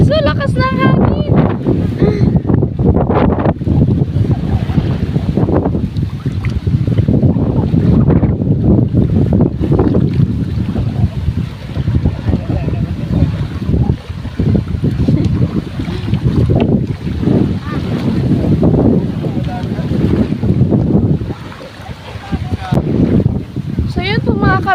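Strong wind buffets the microphone outdoors by the water during a Bicol seaside outing, a loud continuous rumbling roar with gusty surges throughout, while a person talks over it.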